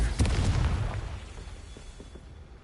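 A Confringo fire-blast spell exploding in Hogwarts Legacy, one loud booming burst with a crackling blast that rumbles and fades away over a couple of seconds.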